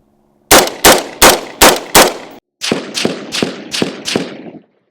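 A 5.56 rifle with a 16-inch barrel, firing 55-grain rounds, looses two quick strings of five sharp cracks each, loud and evenly spaced, with a brief pause between the groups.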